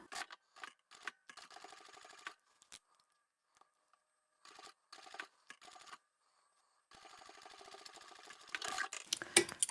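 A sewing machine back stitches fabric for a pocket tissue holder, running in short stop-start bursts with pauses, then a longer steady run that grows louder near the end, close and without talking.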